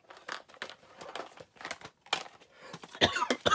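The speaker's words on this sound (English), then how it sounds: "Apologies for my coughing." Someone coughs in a string of short, dry, fairly faint bursts, irregular and close, growing a little louder toward the end.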